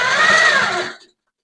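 A long-arm quilting machine stitching a red-block quilt whirs loudly and steadily for about a second, then cuts off into silence.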